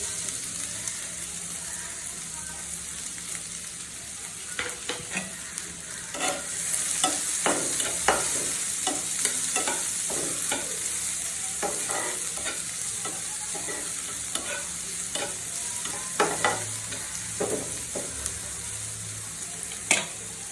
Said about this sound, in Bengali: পেঁয়াজ আর রসুন ভাজা শেষ